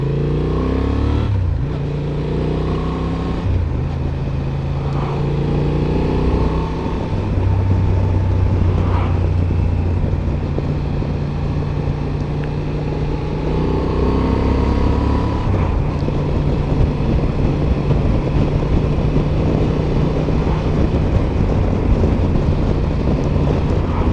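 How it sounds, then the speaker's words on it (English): A 2025 Honda Transalp 750 motorcycle cruises in fifth gear before a downshift to fourth for an overtake. Its engine drones steadily and loudly throughout, with wind rush and rising, falling revs at the gear change. "So we're in 5th gear, let's go down to 4th, let's do the overtake."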